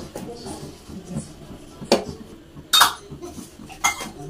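Chicken with spices is stirred in a pan, with metal utensils clinking and scraping against it in a few sharp knocks over a low background, with faint voices nearby.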